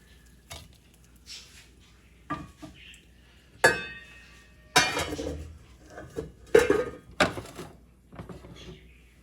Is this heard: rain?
no